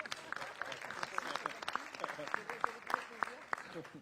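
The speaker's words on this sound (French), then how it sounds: "Vous pouvez vous applaudir" Light, scattered clapping from a small group, soft and somewhat distant, with a few brief voices mixed in.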